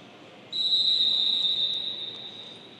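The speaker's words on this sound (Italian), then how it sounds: "in questo momento c'è il fischio conclusivo" A referee's whistle ends the first half of a futsal match, one long sharp blast held for more than a second above the crowd noise of an indoor arena.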